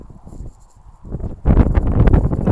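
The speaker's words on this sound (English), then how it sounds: "Oh my god, it's so windy here." Strong wind buffets the microphone at the Toadstool Hoodoos near Kanab, Utah, rising into a loud, steady roaring rush after a quieter gusty opening.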